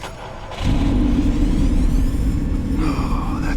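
The Batmobile's engine in Batman: The Telltale Series starts up and settles into a deep, loud rumbling idle, close and steady, with a brief higher whine near the end.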